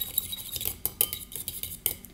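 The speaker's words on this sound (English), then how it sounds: "You're going to stir it until it's nice and thin and it looks really runny." A utensil stirs beaten eggs in a bowl, giving rapid close clinks and scrapes in an uneven rhythm, with no voices.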